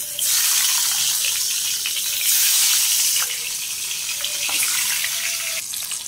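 Bhola fish frying in a wok makes a loud, constant hiss of hot oil that swells briefly in the middle, with a few faint clinks of utensils and no speech.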